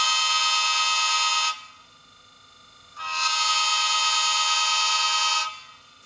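A Bachmann ACS-64 HO-scale model locomotive with a TCS WOWSound decoder sounds its forward quill horn in two long, loud, steady chord blasts separated by a short pause, with no voices.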